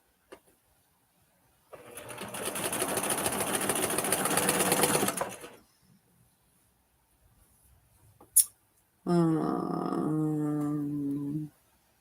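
A sewing machine stitches fabric pieces together in two close bursts, a rapid whirring run of about four seconds, then a shorter, smoother one after a quiet pause broken by a sharp click.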